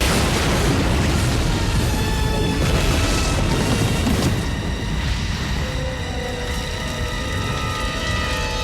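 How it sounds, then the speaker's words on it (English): Loud booming explosions from The Silencers (1996), an action film, with heavy blasts and a long rumbling roar that slowly settles, continuous throughout and free of speech. "We've got explosions which end in explosions."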